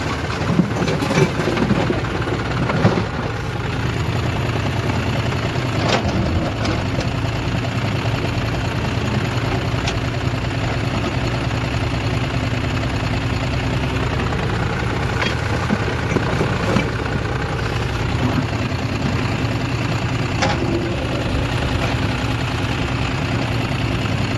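A tractor engine with trolley chugs steadily for a long stretch, a continuous low rumble with occasional knocks and rattles, close by.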